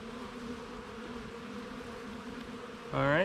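Honeybees buzz steadily around a hive as a nucleus colony is moved into a larger hive body in Jamaica, a close continuous drone, with a louder human voice breaking in briefly at the end.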